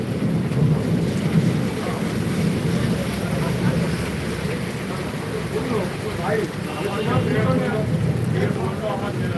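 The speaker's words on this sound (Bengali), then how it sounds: "বজ্র বিদ্যুৎ সহ বৃষ্টি দেখতেই পাচ্ছেন" A thunderstorm with heavy rain over Medinipur town, a dense steady hiss of rainfall under low rolling thunder rumbles, with a person's voice talking faintly through parts of it.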